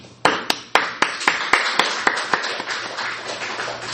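Church congregation clapping in a Korean worship service, starting with sharp, loud individual claps in a brisk rhythm that blur into a busier, softer patter as more hands join, close to the listener.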